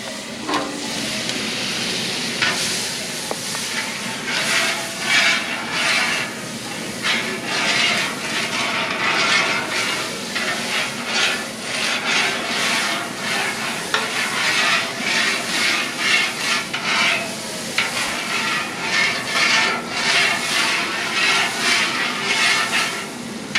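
A whole stick of butter sizzles and hisses on smoked venison steaks, a loud, steady frying crackle with bursts of spattering that rise and fall throughout.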